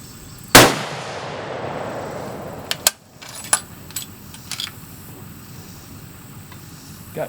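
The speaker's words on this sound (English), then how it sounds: "I'm going to shoot this group at the bottom target." A single loud rifle shot cracks near the start as a 6mm-06 Ackley Improved rifle fire-forms brass, its boom decaying over a couple of seconds, followed by a few faint clicks and handling noises.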